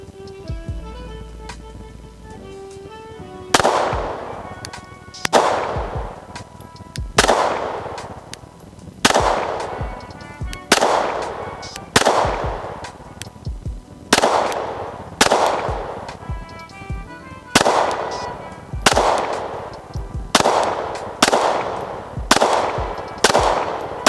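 A rifle fitted with a Strike Industries Mass Driver compensator fires round after round at a 10-yard range, roughly a dozen loud, sharp reports spaced a second or two apart, each with a short ringing decay.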